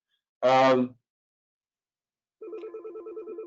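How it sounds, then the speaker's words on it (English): An office desk telephone rings with a warbling electronic trill, preceded by a short loud tone burst and a pause, heard close and clear with no talk over it. "I'm in my office and the phone's ringing, which is not for me, but it will ring until it stops."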